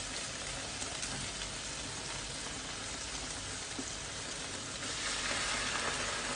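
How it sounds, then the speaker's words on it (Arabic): Tomato paste sautés alone in a pan for spaghetti sauce, giving a steady close sizzle with a rain-like crackle that swells slightly louder toward the end. "راح احط معجون الطماط ينحمس شوية"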